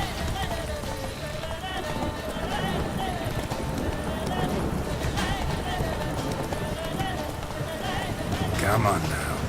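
Roach the horse gallops in The Witcher 3, rhythmic clip-clop hoofbeats close and steady with a snort or whinny near the end, someone speaking briefly over the running.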